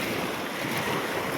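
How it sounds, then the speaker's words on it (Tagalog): Sea waves at a beach roll in as a continuous broadband wash of surf, mixed with wind buffeting the microphone, steady and fairly faint with no voices. "dito tayo pa rin sa dagat"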